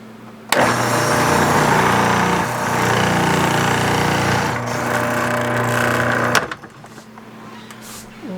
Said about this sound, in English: we're going to grate some zucchini. And this time I'm going to use auto